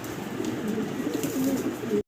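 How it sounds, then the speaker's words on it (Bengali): Young fancy pigeons of the Maltese breed in a loft, cooing close by in low, soft throaty calls that repeat steadily for about two seconds before the sound stops suddenly. "আসলে এগুলো হচ্ছে বাচ্চা কবুতর"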